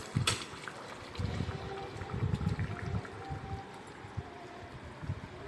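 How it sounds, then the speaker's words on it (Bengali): Katla fish curry with potatoes boils in a pot, its thick broth bubbling and gurgling steadily at close range in low, uneven pops. "দেখো ঝোল কেমন টকবক ফুটছে"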